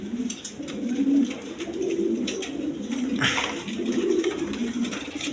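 Satin pigeons in mixed colours give low, rolling coos in repeated close phrases, with a soft background hiss.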